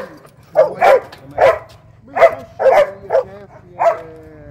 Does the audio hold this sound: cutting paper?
no